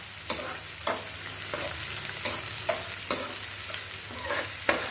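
Onions sizzle steadily in a hot frying pan, with a spatula scraping and stirring every second or so, close up and with no talking.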